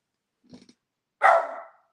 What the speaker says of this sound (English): I'm sorry for the barking, y'all.